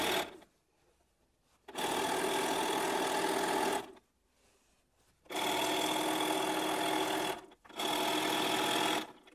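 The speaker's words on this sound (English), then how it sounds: "I'm just going to sew this down to on the side." A sewing machine stitches fabric scraps onto a book cover, running in three steady mechanical bursts of whirring needle chatter separated by short quiet pauses, with no talking.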